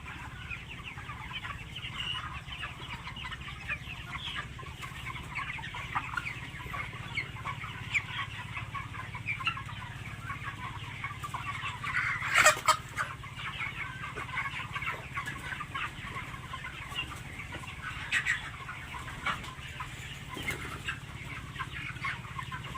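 A flock of 31-day-old broiler chickens on a raised-floor farm clucks continuously at low level, with a brief burst of louder squawking and wing flapping midway and no talking.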